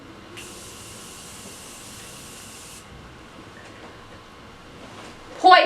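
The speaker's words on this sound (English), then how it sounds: "Are you gonna spray my face for me?" A single sustained hiss of setting spray misted onto a face, close and soft, lasting a couple of seconds in a quiet room before a brief louder noise at the end.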